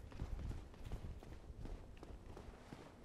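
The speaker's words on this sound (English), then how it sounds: "I heard someone stomping around." Heavy footsteps stomping in the video game Dark Souls, a quiet run of repeated thuds at an uneven pace.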